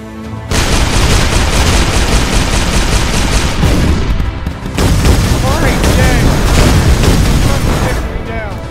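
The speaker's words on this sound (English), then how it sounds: "I got an airstrike for you." Airstrike in a video game: loud, sustained barrage of booms and rapid gunfire that fills most of the clip, with a brief dip midway before the blasts resume, and faint chirping sweeps over the din.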